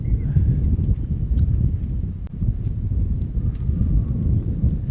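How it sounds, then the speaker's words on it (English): Steady wind buffets the microphone with a constant low rumble throughout at an outdoor lawn bowls match, loud and unbroken, with faint higher sounds drifting over it. "wind's picking up here"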